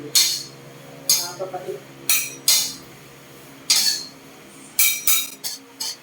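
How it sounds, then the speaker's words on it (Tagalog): Moringa leaves are stirred in a pan for tea, giving repeated scraping, clinking strokes of a utensil against metal, roughly one each second and some in quick pairs, up close and fairly loud with no talk over them. "Dapat laging halukayin kasi baka masunog."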